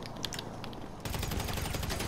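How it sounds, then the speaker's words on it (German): Gunfire in the Grand Theft Auto Online video game: a few scattered shots, then a sudden dense, loud burst of rapid automatic fire that continues to the end. "schieße jetzt hier ein bisschen rum, um ein bisschen Polizei zu bekommen"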